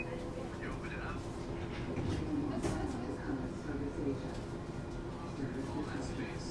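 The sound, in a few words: LRT light rail train riding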